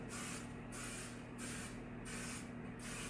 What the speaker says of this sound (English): I'm gonna take it over to the sink and just spray the top of the rim